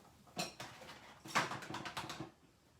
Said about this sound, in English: I'm just going to give this a little shake